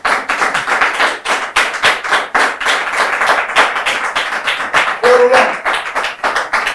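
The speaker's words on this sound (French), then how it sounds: "Sous vos applaudissements, s'il vous plaît." Audience applause welcoming a guest at an evening gathering, rhythmic hand clapping in a steady beat by many people, loud and close, with a brief voice calling out near the end.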